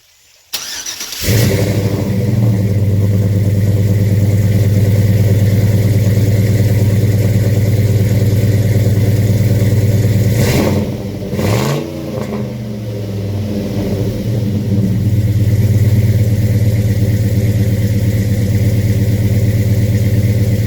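An LS-swapped 1968 Chevy C10 with Flowmaster exhaust cranks and fires up, then settles into a loud, deep, steady idle, with a couple of brief throttle blips midway before returning to idle.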